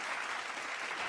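Crowd applause, a dense and even wash of clapping that holds steady throughout the short burst, fairly distant and moderately loud.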